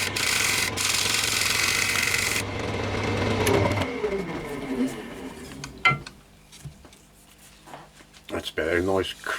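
Edge of a wooden bowl being sanded, a loud rasping hiss for the first few seconds that then fades into quieter rubbing and handling noises, with someone talking toward the end.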